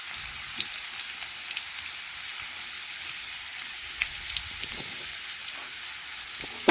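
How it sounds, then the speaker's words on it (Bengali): Potato pieces fry in oil in a pan with a steady, even sizzling hiss and faint scattered pops, quiet and continuous, with no talking. "যে দিকটা হয় না সেদিকটা আমি আবার ওইভাবে উল্টে আলুগুলো ভেজে নিচ্ছি।"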